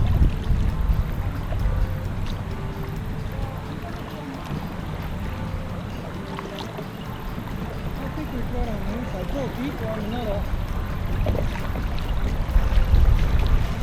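Kayaks make their way down Swatara Creek in Swatara State Park. Soft paddle splashes and flowing water blend into a low, steady outdoor wash, and voices talk over it at times.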